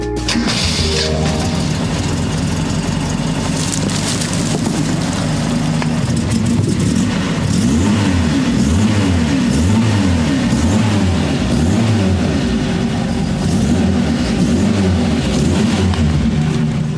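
A heavy engine rumbles loudly and continuously, rising and falling in repeated revs, close by with no voices.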